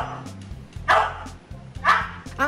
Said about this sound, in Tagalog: Ang aso ito, mistulang math genius at kayang itahol ang mga numero.